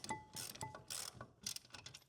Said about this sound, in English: I need to start wrenching now.